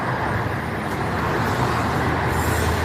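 Dense road traffic rumbles continuously near a bus station by the gold souq in Deira, Dubai, a loud, steady wash of passing cars, buses and trucks with no clear individual vehicles standing out.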